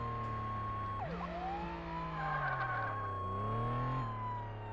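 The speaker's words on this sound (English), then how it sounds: "I will turn on my sirens so I can pull him over" A police car siren wails in the Flashing Lights video game, a steady close electronic tone sliding up and down in slow sweeps over a continuous engine hum, with no talking.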